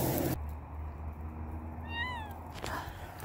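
A single high, thin kitten meow, brief and fairly clear against a low background hum.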